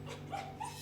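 An anxious poodle whimpers and cries in short, thin, high whines, fairly close and moderately loud over a steady low background hum.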